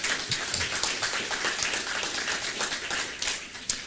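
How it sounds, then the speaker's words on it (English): Audience applause during a statewide COVID-19 conversation event with the Arkansas governor, steady broadband clapping from a room of people, fairly even and moderate in level across the whole stretch. "Give yourself a round of applause."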